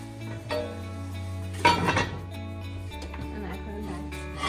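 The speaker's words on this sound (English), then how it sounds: "I put the lids on." Lids go onto hot pots for baking sourdough bread, with one clear metallic clank midway over a steady background hum.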